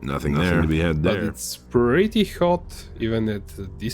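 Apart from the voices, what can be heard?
None of the usual background noises is heard.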